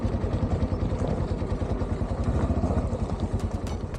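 A Harley-Davidson motorcycle engine idles close by with a deep, loping, uneven throb, joined by other bikes gathering for a group ride in northern Rwanda.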